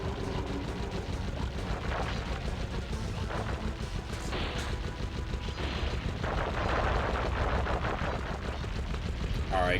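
A cannon fires repeatedly in the video game Sly Cooper, heavy booming blasts layered over dense game noise and rumble, loud and continuous throughout.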